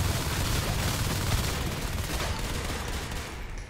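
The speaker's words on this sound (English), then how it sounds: "I don't know what just happened there, but a lot of explosions!" Dense, continuous gunfire and explosions from a Natural Selection 2 competitive league match, loud and sustained throughout with overlapping shots and blasts and no talk.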